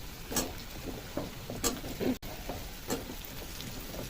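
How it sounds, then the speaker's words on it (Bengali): Sliced ridge gourd frying in hot oil over a high flame, a steady crackling sizzle with occasional sharper spatters as it is stirred, moderately loud and close, with no talking. "হাই ফ্লেমে ঝিঙেগুলোকে কিছুক্ষণ ভেজে নেব"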